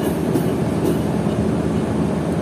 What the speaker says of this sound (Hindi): और ट्रेन आगे बढ़ रही है।